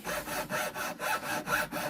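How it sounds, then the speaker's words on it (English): Hand saw cutting through wood in rhythmic back-and-forth strokes, about seven even rasping pulses at close range with no talking. "just letting the saw do the work"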